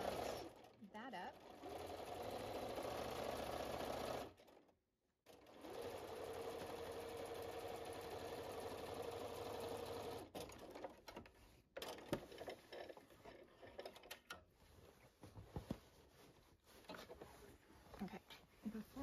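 Bernina 440 sewing machine quilting spider webs, running steadily and loudly with a fast stitching rattle, briefly stopping then restarting and continuing in shorter, uneven bursts.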